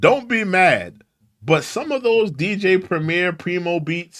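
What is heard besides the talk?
No everyday noise stands out behind the speech.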